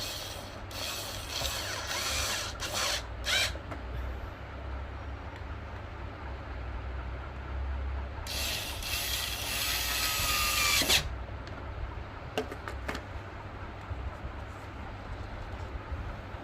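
A small electric screwdriver tightens screws on a Lexus LS400 instrument cluster, giving short whirring bursts with ratcheting clicks and quiet pauses between them, close by.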